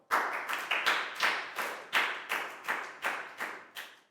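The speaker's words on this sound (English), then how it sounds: "And a big round of applause again for everybody for doing a great job." Schoolchildren in a Year 4 maths class applaud everyone, a steady run of roughly a dozen close, evenly paced claps heard alone, without voices.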